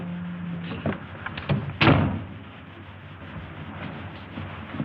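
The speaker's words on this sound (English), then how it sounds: "Close the door." A train compartment door shuts with one sharp, close thud amid low rumbling and faint clatter, in old film sound with a dull, muffled tone.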